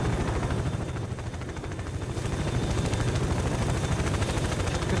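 A helicopter in the game S.T.A.L.K.E.R.: Wind of Time at the Agroprom research institute, a steady loud rotor chop with engine drone running throughout, with no voices.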